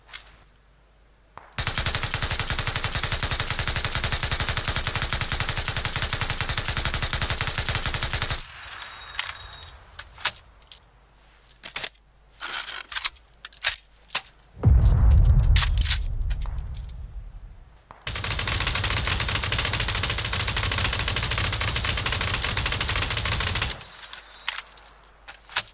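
Full-auto bursts from MG3 and M249 machine guns in PUBG, loud sustained automatic fire in long sprays broken by shorter stuttering bursts, with brief pauses between volleys and no talking.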